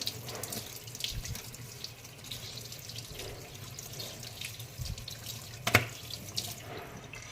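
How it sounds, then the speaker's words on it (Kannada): Tap water runs steadily into a sink while goat lungs are rinsed under it, with occasional splashes and a sharper knock partway through, close and moderately quiet. "ಈಗ ಲಂಗ್ಸ್ ಕ್ಲೀನ್ ಮಾಡೋದು ಇದು ಮೇಲ್ಗಡೆ ವಾಶ್ ಮಾಡ್ಕೊಳ್ಳಿ"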